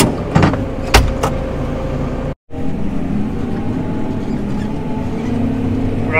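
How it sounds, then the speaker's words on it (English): A pressure washer drones steadily on a farm where a trailer has just been mucked out, a continuous motorised hum with a few knocks early on and a brief cut-out midway. "Dad's just started pressure washing"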